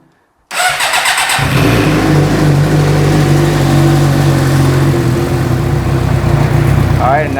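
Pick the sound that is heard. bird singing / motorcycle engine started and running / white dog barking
motorcycle engine started and running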